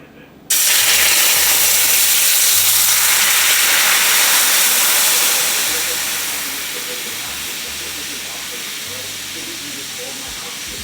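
Heavy cream poured into a hot pot while making mac and cheese sets off a loud, steady steam hiss that starts abruptly and eases slightly after a few seconds, continuing alone.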